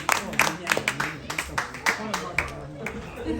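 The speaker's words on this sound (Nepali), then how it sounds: "ताली ताली ताली" A family claps together during a Secret Santa gift exchange at home, with a run of sharp, uneven hand claps over mixed chatter and voices.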